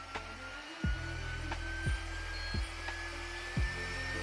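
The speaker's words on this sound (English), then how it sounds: "And now we're on drying mode." Hair dryer in drying mode, a steady close whirr with a high whine, broken by four short regular clicks or bumps roughly once a second.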